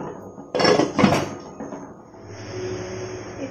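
A metal lid is set onto a cooking pan on the stove, two quick clattering knocks close by, followed by a low steady simmer.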